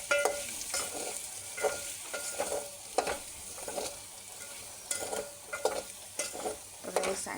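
Potato farari mixture stirred in a pan, with repeated scraping strokes of a spoon in an uneven rhythm over a soft sizzle, close and fairly quiet, no talking.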